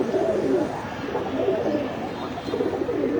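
Homer pigeons in a pigeon collection coo steadily, with low, throaty, repeated calls that overlap continuously, close by and fairly loud.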